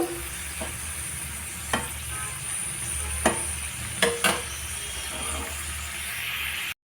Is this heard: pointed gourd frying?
yes